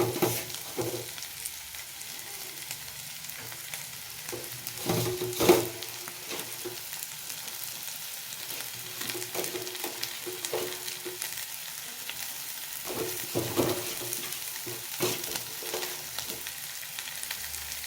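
Banana flower frying on a low flame in a pan: a soft, continuous sizzle with occasional stirring scrapes and a couple of louder knocks, close and fairly quiet.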